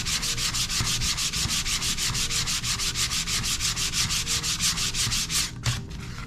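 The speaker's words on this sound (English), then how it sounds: "This is a little bit more protruding. Just sand this a little bit more." Steady, continuous rubbing of sandpaper against a leather belt with a lion design, a rapid back-and-forth scraping rhythm that carries on without pause, close and fairly loud, with no talking.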